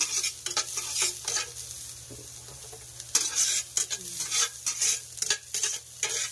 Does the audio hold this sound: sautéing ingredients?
yes